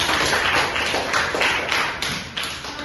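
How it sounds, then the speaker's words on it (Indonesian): A classroom of students clapping for a classmate after a lesson on egg-laying animals, a dense, steady patter of many hands lasting throughout, fairly close and even in loudness. "Beri tepuk tangan kepada Kak Emma"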